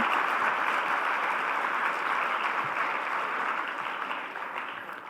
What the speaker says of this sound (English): give a round of applause for Bhajan Mandal.